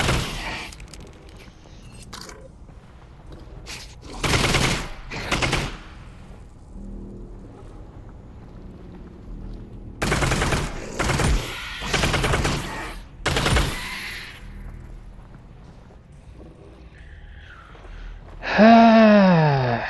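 Gunshots fired in the VR game Half-Life: Alyx, several short sharp bursts spaced apart over a quiet background, with a few close loud reports and a brief rising tone near the end.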